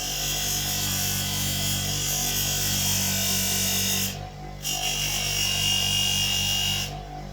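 A power drill whirs steadily while spinning a brass .222 Rem hunting cartridge case mounted backwards on a 5.5 mm bit, a loud continuous drone that stops briefly twice.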